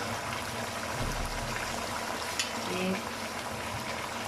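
Water cooking down in a mutton karahi over high heat just before oil goes in, giving a steady close bubbling sizzle that holds evenly throughout.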